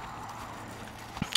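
Horse hooves clip-clop during a trot, a few distinct footfalls coming through near the end over a steady background hum, fairly close.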